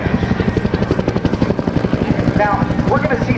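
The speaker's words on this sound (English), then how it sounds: "it's got incredible lifting capability provided by a 54-foot diameter rotor. Driven by jet engines" A helicopter with a 54-foot rotor driven by two GE jet engines passes at an air national guard open house. Loud, rhythmic rotor thumping pulses beneath turbine whine, with a voice speaking over it.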